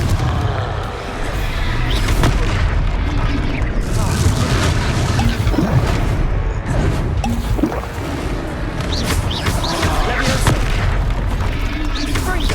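Confringo fire blast spell explosions in Hogwarts Legacy, heard as loud, dense booming and crashing that continues throughout, layered over game sound and effects.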